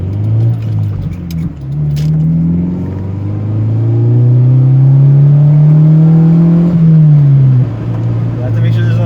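A Honda Integra lowered on Skunk2 coilovers accelerates hard, its engine note droning and rising steadily in pitch for several seconds before dropping as it shifts, loud and close from inside the car.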